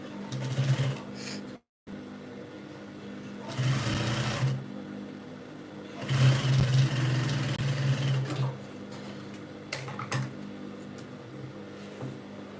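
A sewing machine stitches the joining seam of a princess bustier peplum blouse, running in several close, steady whirring bursts of one to three seconds with brief pauses between them.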